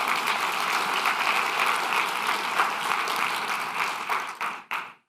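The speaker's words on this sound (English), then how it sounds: "I think they deserve a big round of applause" Sustained applause from a conference audience of association executives honoring the advisory board, dense steady clapping that fills the room and then cuts off abruptly near the end.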